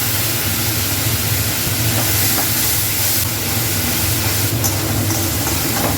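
A loud, steady sizzling hiss fills the pan as water is poured into frying spice paste for a papaya and potato curry, continuous and close throughout.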